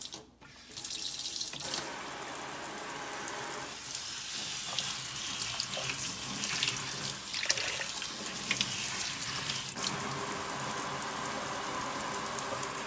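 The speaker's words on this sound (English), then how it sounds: "you want to make sure that you rinse your strawberries" Tap water runs steadily into a sink while strawberries are rinsed under it in a home kitchen, a continuous close splashing hiss with slight shifts in flow and no talking.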